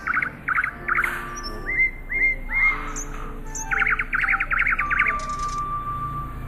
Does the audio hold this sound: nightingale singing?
yes